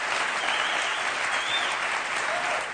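A crowd at a TEDx talk in La Rioja claps steadily and evenly, a continuous wash of applause with no gaps and no voices over it.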